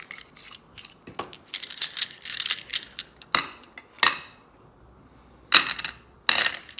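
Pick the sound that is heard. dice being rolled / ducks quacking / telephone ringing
dice being rolled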